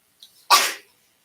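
A single sharp sneeze bursts out close by during a town selectboard meeting after a quick intake of breath, then quiet.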